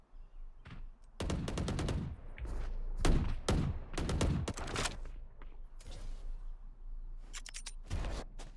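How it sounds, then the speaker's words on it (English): Gunfire in a video game match: irregular bursts of rapid shots and scattered single cracks, fairly close and sharp, alone without talk. "Still pot shots being taken from either side."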